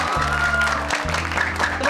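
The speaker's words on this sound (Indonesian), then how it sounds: "Tepuk tangan dulu dong." A steady wash of audience clapping at a stage show welcoming a guest star, heard under loud, thumping bass-heavy music that pulses beneath it.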